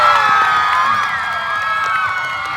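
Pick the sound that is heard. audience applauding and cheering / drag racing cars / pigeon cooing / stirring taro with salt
audience applauding and cheering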